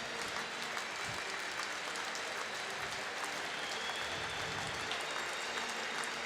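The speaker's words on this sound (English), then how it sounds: "Due appreciation from this big crowd." A big crowd at the U20 Rugby World Cup final between France and England applauds steadily, a dense, continuous wash of clapping from the stadium stands that carries on throughout with no break.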